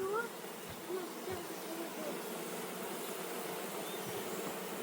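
Steady, dense buzzing of many honeybees at an apiary hive fills the clip continuously, close and fairly loud, with no talking.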